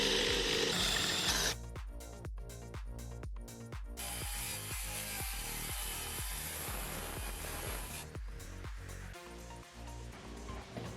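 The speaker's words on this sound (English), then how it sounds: "the last deck board will be ripped down to fit" Power saw ripping a Trex composite deck board lengthwise: a dense, steady cutting whine runs for several seconds, broken by short rhythmic bursts at the start and near the end, close and loud.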